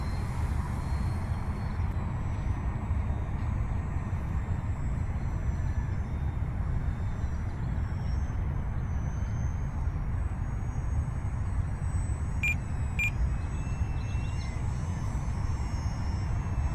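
A small airplane landing, heard from inside as a steady, loud low engine drone and broadband rumble that holds throughout, with a few faint high beeps near the end.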